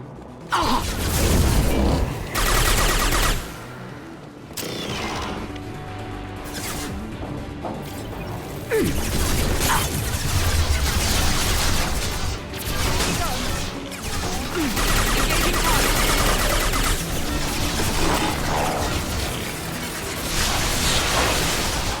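Gunfire and impacts in Mass Effect 2, with bursts of shots, metallic clanks and crashes in an intense firefight lasting throughout, loud and close with no clear talk.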